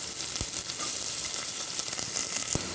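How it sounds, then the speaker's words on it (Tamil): Chopped big onions and a green chilli fry in hot oil with fennel, a continuous close sizzle with two sharp knocks of a spatula against the pan. "வெங்காயம் நல்லா கோல்டன் ப்ரௌனாக வர வரைக்கும் வதக்கிக்கலாம்"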